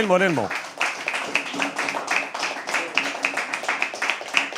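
Audience at a live poetry open mic claps steadily, a dense patter of many hands with brief voice bits at the start.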